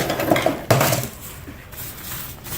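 Potatoes tipped and spread onto a metal sheet pan, a quick clatter of pieces landing with one louder clank near the start, then fading rustle.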